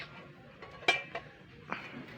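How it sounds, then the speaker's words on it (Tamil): A metal lid comes off a pot of boiling soup with a sharp clink, followed by a couple of lighter metallic taps and a soft scrape, close by in an otherwise quiet kitchen. "நம்ம வந்து மூடியை திறந்து பார்க்கலாம்."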